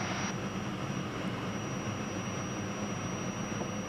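Cirrus Vision Jet engine during the takeoff climb, a steady loud broadband roar with a high whine, heard from inside the cabin.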